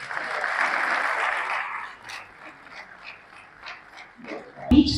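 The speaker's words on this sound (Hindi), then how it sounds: "बहुत खूबसूरत तालियों के बीच" Applause fills a hall at an honouring ceremony where a guest receives a potted plant, a dense crowd clapping for about two seconds before tapering into scattered claps and room murmur, ending with a sharp thump.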